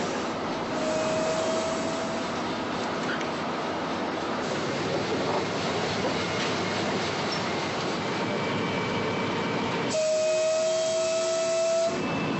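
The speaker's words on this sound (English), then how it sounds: "Attention passengers, the train is leaving." A children's railway train in the Orenburg region departs with steady rolling rumble and rattling wagons, a whistle-like tone sounding near the start and again near the end.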